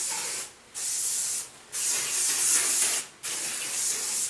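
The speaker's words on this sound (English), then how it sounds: "I will do is use my Aussie Mega Hairspray. And I just lift it up and spray." Three long, steady hisses of Aussie Mega Hairspray being sprayed at close range, separated by brief pauses.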